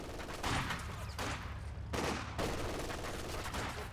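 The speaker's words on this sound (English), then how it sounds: "Grenadiers firing away" Rifle volleys from Grenadier squads in the real-time strategy game Company of Heroes 2 crackle in dense, overlapping bursts with heavy booming impacts, a loud continuous battle din with no pauses.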